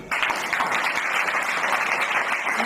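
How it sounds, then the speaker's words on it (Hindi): Students clapping together in a school classroom, a dense, even burst of applause that starts abruptly and holds steady at close range. "ताली बताइए।"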